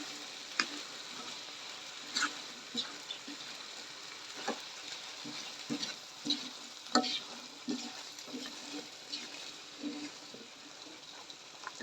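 Potatoes and carrots being stir-fried with meat in a pan, a steady low sizzle broken by repeated scraping and tossing clatters of the spatula at an uneven pace, close and fairly quiet, no talking.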